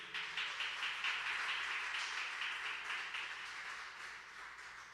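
A church congregation gives sustained clapping at a service, a steady, fairly distant wash of hands that slowly fades.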